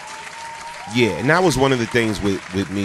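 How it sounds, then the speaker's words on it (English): Applause sound effect on a call-in morning talk show: steady, hissing clapping runs throughout, alone at first and then under a man's close, continuous speech. "Yeah, clap that up."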